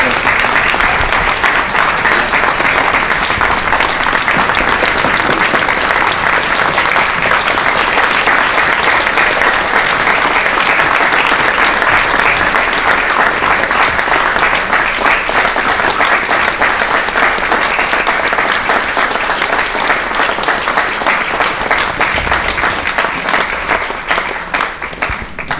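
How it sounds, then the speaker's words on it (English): A large live audience at a storytelling event applauds speakers gathered on stage, loud sustained clapping and crowd noise that runs unbroken for about twenty-five seconds before easing slightly at the close. "give them a huge round of applause"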